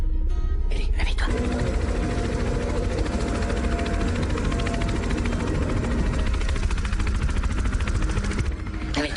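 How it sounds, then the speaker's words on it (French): A rescue helicopter searching for survivors makes a loud, steady rotor roar with a droning hum that fills the whole stretch and drops away abruptly at the end. "C'est un hélicoptère."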